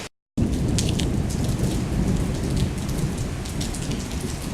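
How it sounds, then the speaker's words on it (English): Steady heavy rain drums on a surface during a thunderstorm at an empty outdoor event spot, with low rumbling mixed into the constant downpour after a brief silent start; no voices. "You hear that thunder?"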